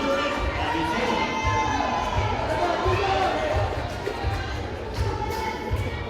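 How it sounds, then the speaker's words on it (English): A loud crowd cheers and shouts continuously in a gym during a high school volleyball championship match, with a dense, sustained roar and scattered voices rising and falling. "the crowd is too loud, they are very loud here"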